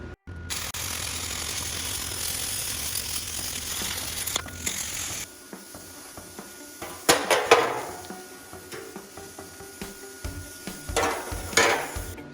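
Cutting torch slicing through a metal vehicle chassis, a continuous hiss and roar that drops off midway, then sharp sizzling, crackling bursts as the flame bites through steel, fairly close.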